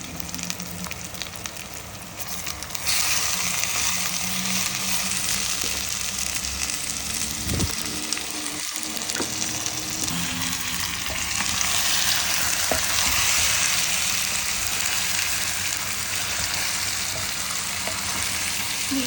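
Marinated mutton rib bones sizzle loudly in a pan with masala, a steady frying hiss that swells after the first few seconds, broken by scraping stirs and clinks of the spoon, with no talking.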